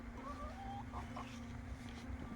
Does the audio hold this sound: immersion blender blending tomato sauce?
no